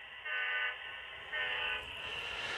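Sound unit in a model train locomotive on a layout run by an NCE Power Pro-R system, playing train sounds: two loud sustained horn-like blasts over a steady mechanical hum, with no talking.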